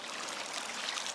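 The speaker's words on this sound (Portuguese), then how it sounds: "O borbulhador funciona" A water bubbler on a boat propeller test rig runs with a steady, hissing, trickling flow of water, continuous and moderately close with no voices.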